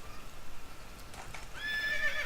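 A horse whinnies in a farming video game, a short, faint neigh rising out of soft background noise, heard alone with no talking.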